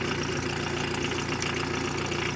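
A tractor engine with a Bosch alternator belt runs steadily at idle, loud and close, with a continuous thin whine riding over the low rumble and no talking.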